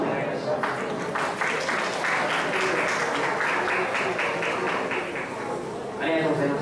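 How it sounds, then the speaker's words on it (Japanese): Sustained applause from a large crowd after a lecture, a dense wash of clapping that holds steady for several seconds, with a swell near the end. "皆様、今一度拍手をお願いいた"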